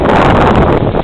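Strong wind buffets the microphone outdoors in snowy, freezing weather, a continuous loud roar of rumbling gusts, easing slightly near the end.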